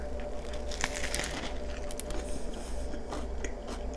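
Close, quiet crunching bites and chewing into a sloppy joe on a crusty toasted buttered bun, a soft continuous mouth noise with scattered crisp crackles and no speech.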